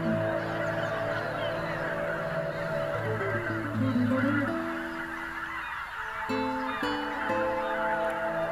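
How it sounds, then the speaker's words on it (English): A flock of geese in the Biebrza wetlands honks continuously, many overlapping calls blending into a loud, steady clamor. "The return of geese means another spring has come."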